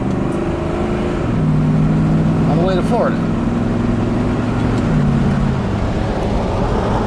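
Steady engine drone of a 1973 Chevrolet Monte Carlo 350 V8 heard from inside the car, with the pitch dropping as the gears change, under someone talking throughout.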